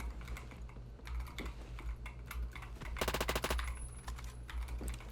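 Gunfire from the Roblox shooter Phantom Forces rattles out in a rapid automatic burst midway, with scattered clicks and shots around it, fairly faint.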